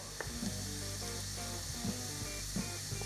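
Ginger sizzles steadily in hot oil in a pan while chilli oil is being made, a continuous close crackle and hiss with a few small clinks and no talk.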